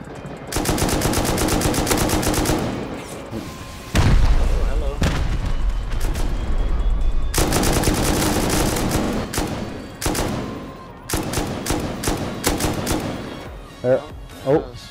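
Automatic gunfire in modded Rust rattles in loud, rapid bursts with short gaps between volleys, including heavy booming shots and a few sharp single cracks near the end.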